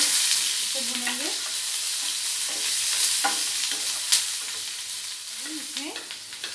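Chopped onions sizzle steadily in a hot pan for a veg corn keema, with a continuous bright frying hiss and a few soft scraping stirs of a spoon, close and alone.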